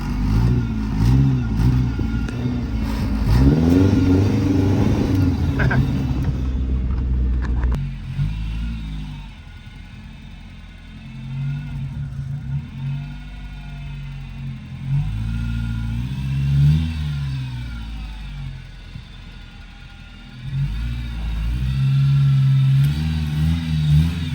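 A Chevy Tracker drives through snow with its engine revving up and easing off in uneven surges, loud and close, with occasional clattering and no talking.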